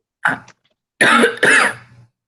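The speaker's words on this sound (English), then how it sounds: "I'm going to cough just for an example." A short cough, then two louder, harsher coughs a moment later, close by with no talking.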